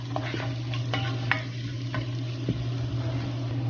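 Garlic and ginger fry in a pan with a continuous moderate sizzle, punctuated by a few sharp scraping stirs, close up, over a steady low hum, with no speech.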